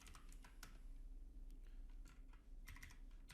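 Soft, rapid keystrokes clatter on a computer keyboard in quick irregular bursts, faint and close, with no talking.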